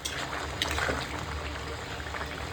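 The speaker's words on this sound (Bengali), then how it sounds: "এখন ঝোলে জাল ওটা পর্যন্ত অপেক্ষা করবো" Fish curry gravy with turmeric powder and salt boiling in a pan, a steady dense bubbling with faint liquid pops, continuous and close with no talking.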